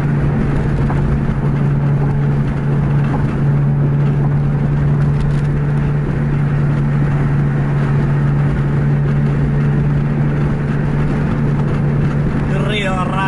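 A Scania diesel bus drives at high speed, around 150 km/h, with a loud, constant engine drone and road roar that fill the whole clip. Voices talk under the noise.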